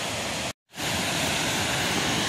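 The middle falls at Aysgarth Falls give off a broad, steady roar of rushing water, broken by a brief total dropout near the start before the constant wash returns.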